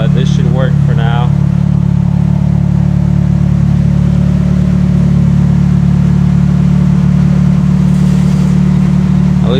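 A Nissan 240SX S13 with a new budget aftermarket exhaust drones steadily at a fairly quiet, deep idle or light rev, holding a constant low rumble throughout with no sharp rises, while a person talks briefly over it.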